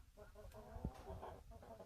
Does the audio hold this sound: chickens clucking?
yes